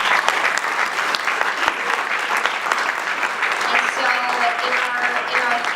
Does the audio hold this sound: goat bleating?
no